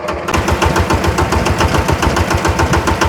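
A vehicle engine runs steadily and loudly with a dense, rapid pulsing throb throughout, on a slow road ride in traffic, the vehicle noted as lacking pulling power.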